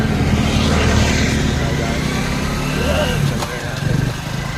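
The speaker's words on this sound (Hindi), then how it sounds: "मैंने सोचा कि सुम्मी भाई को थोड़ा सा दे दिया जाए बाइक चलाने के लिए" Motorcycle engine droning steadily while riding along a highway at night near Kannauj on a Delhi to Lucknow trip, close and loud with wind rumble, a brief dip in level toward the end.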